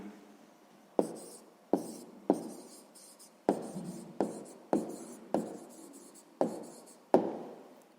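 A pen writing on paper in short scratching strokes, roughly ten quick bursts in an irregular rhythm, close and fairly quiet, with no talking.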